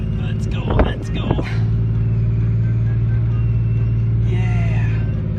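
A stranded vehicle stuck on a steep desert slope revs steadily with a loud, constant engine drone while its wheels spin. Voices talk over it near the start.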